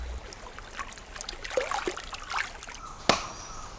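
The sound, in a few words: hand washing yellow cacao pod in clear gentle stream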